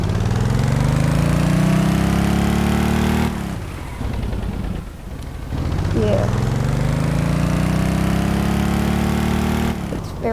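A small modular car engine built in the game Stormworks idles with a loud, steady buzzing drone, dropping out briefly midway before resuming at the same even pitch.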